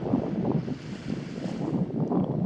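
Strong wind buffets the microphone in a constant low roar at the Bulgarian seashore, with a faint wash of calm, waveless open water underneath and no voices.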